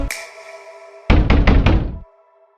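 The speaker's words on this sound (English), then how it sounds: "until the knocking began." A series of five loud, close knocks in steady rhythm on a door or wall, sounding over a faint sustained musical drone in a haunted-house setting.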